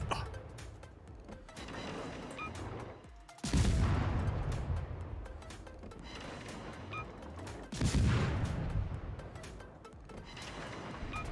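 Naval guns fire from a Tier IX German premium destroyer, the Z-44, in World of Warships, sounding as two heavy booming salvos a few seconds apart over a steady battle rumble.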